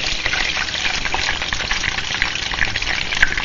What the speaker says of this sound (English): be careful with these as they're really hot and the oil pops